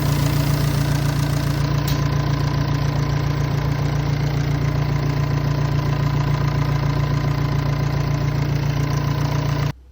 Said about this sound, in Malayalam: ഇപ്പം ടൈമിംഗ് എല്ലാം വെച്ച് നമ്മൾ സെറ്റ് ചെയ്ത് ഇനി കവറൊക്കെ എടുത്തിട്ട് നമുക്കൊന്ന് സ്റ്റാർട്ട് ചെയ്ത് നോക്കാം